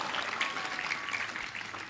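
Audience clapping during a religious talk, a steady wash of many hands heard somewhat distant and muffled in a large gathering.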